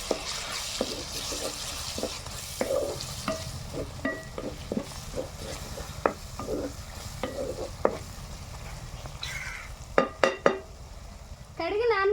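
Okra and dried prawns stir-frying in a pan, with a steady low sizzle under repeated scraping strokes of a spatula and a few sharper clanks near the end.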